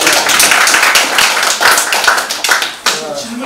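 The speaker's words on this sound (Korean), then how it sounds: "박수 한번 부탁드리겠습니다." Loud, close hand clapping from a lecture audience at a special talk, a brisk patter of many hands lasting a few seconds with no speech over it.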